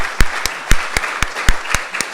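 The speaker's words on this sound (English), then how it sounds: "If we give our speakers a round of applause." A conference audience applauds the session's speakers, with sharp, loud individual claps standing out in a regular rhythm over a softer wash of many hands, close and without voices.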